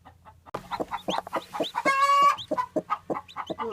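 A broody hen sitting on a clutch of eggs near hatching clucks in a steady run of short, close calls, with one longer, higher squawk in the middle.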